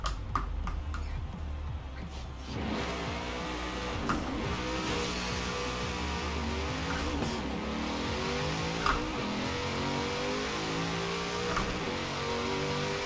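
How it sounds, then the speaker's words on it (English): A race car engine in a Forza Horizon 4 drag race roars steadily and loudly, rising through revs with gear changes as it accelerates. "Let's do some drag racing."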